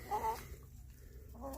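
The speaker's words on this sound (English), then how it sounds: "we bought these right here, and we have 1 hen, but I think we have 3 roosters" A backyard flock of hens and roosters gives a brief, faint cluck, then a softer one moments later, against quiet background noise.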